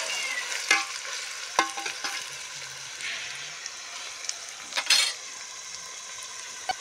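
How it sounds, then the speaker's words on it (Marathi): An onion sautéed in a pan until reddish, with a steady broad sizzle and a few sharp utensil scrapes and clinks as it is stirred, close up and without speech. "आता ह्यात कांदा टाकलेला आहे आणि कांदा आपण पूर्ण लालसर होईपर्यंत आहे ना परतून घ्यायचा आहे"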